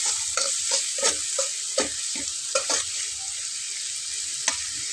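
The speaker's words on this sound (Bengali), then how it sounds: "এখন শুধু মশলাটাকে আমি কষিয়ে নেব।" Spice paste with turmeric and salt is fried and stirred in a pan for Bengali bhindi posto, okra with poppy seed. A steady sizzle runs throughout, broken by repeated scraping stirs. No one speaks.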